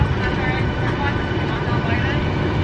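Steady, loud airplane cabin engine drone, a dense broadband hum with a voice talking faintly beneath it.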